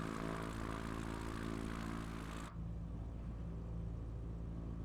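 An experimental propeller plane in flight over Krakow, Poland, gives a loud, steady engine and propeller drone heard from inside, broad and unbroken, with no voices.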